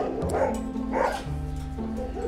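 A dog at an animal shelter gives a few loud, close barks and yips in quick succession, with short whimpering tones between them.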